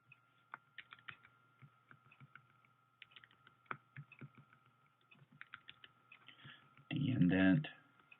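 Keyboard typing while editing code, sparse individual key clicks and short bursts spread over the span over a faint steady hum, ending with a brief loud burst of talk.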